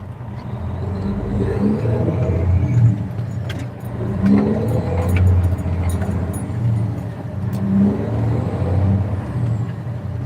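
A truck accelerates on a slick, unplowed icy road south of the Twin Cities, its engine droning steadily and loudly with low rumbling surges throughout, no talk over it.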